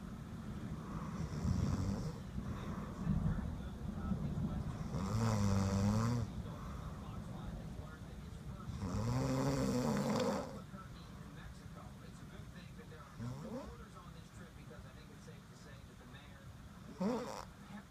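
A person snoring: slow, rhythmic rasping breaths repeating every few seconds, close and fairly loud, with quieter exhales and light background noise between them.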